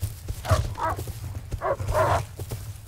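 In the video game Rust, a dog barks in a few short bursts at mid distance over a steady low rumble of game ambience.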